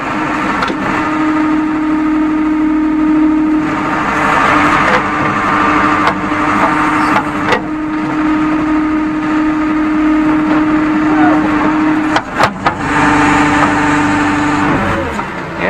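A JCB 3D backhoe loader digging a pipeline trench, its diesel engine running loud and steady close by, with a few brief clanks near the end.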